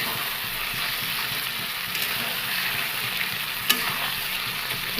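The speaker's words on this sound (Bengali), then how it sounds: "একটু হালকা কষিয়ে নিই, এটা কষিয়ে তারপরে আমি এটা দেবো" Chicken sautés in oil in a pan, giving a steady, moderate sizzle with soft stirring scrapes and one sharp utensil knock, close by and without any talking.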